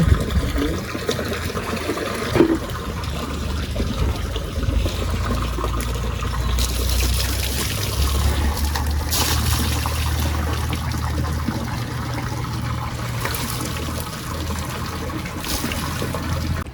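Water splashes and trickles continuously as a farm animal is bathed on a hot day, with a steady pour running throughout and no voices.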